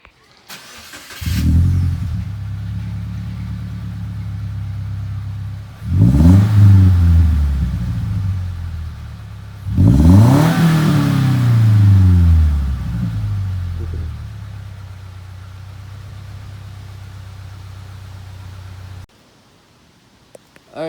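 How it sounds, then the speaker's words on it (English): Close, loud idle of a 2015 Subaru Impreza fitted with a big aftermarket muffler, broken by three sharp revs that swell and fall back, before the engine cuts off near the end. "Today this 2015 Subaru Impreza is getting a big muffler install."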